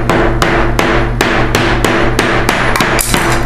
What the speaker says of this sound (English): Here's a hammer.